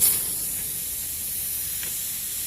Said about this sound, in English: I want to spray in this little gap here